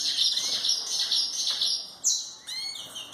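Belgian canary chicks in a nest chirp steadily in a high, bright chorus of overlapping peeps, with a sharper rising call near the end; close and fairly loud, no talking.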